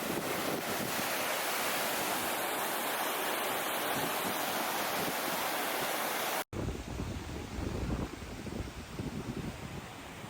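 Meltwater stream rushing through a snowy Himalayan valley, a steady loud broadband roar of flowing water mixed with wind buffeting the microphone, briefly cut at one point, no talk.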